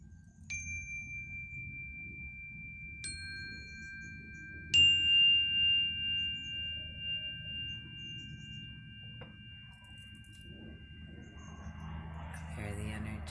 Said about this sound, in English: Where's my little school bell ring? Got a little bell tone going.